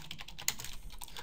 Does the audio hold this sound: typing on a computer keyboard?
yes